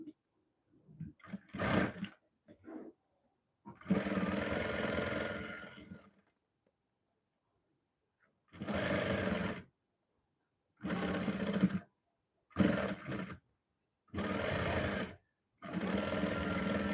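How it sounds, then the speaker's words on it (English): A sewing machine stitches a 1 cm seam in fabric in a series of loud, close whirring bursts of a few seconds each, separated by pauses and brief handling noises. "so I'm just going to stitch with 1 cm"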